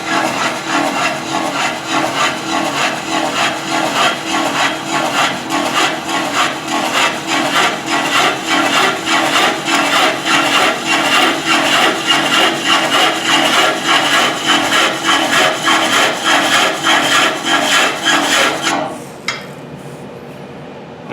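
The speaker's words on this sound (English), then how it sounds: "So I'm going to start off by rubbing the bevel," A woodturning chisel rides its bevel against a large spinning wooden platter on a lathe, making a loud, steady rasping hiss with a fast rhythmic pulse that runs for about nineteen seconds and then stops abruptly.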